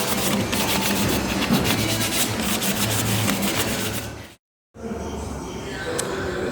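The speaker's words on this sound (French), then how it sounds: "je suis en train de poncer les jambes de la GT3" Close, continuous rasping of sanding on the bodywork of a Porsche GT3 in a paint workshop, steady and loud for about four seconds, then a brief cut and quieter rubbing afterward.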